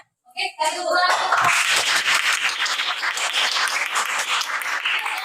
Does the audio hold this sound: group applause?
yes